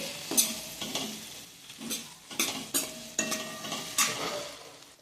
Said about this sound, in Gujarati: એક ચમચી ધાણા જીરું પાવડર સારી રીતે બધું મિક્સ કરી લઈએ